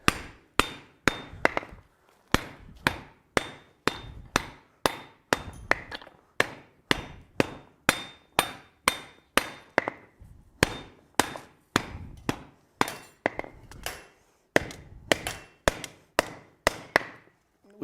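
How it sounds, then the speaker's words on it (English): A wooden mallet strikes a hand-forged metal rasp from above to straighten its body, producing some thirty sharp, evenly spaced knocks in a steady rhythm, with a few brief pauses, close and alone. "we're going to do a little bit of straightening using a wood mallet from on top"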